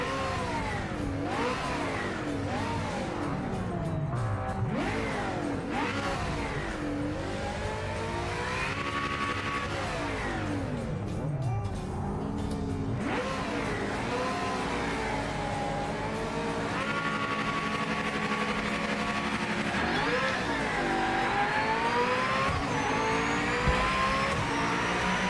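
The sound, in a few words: race car engine revving in video game Project Motor Racing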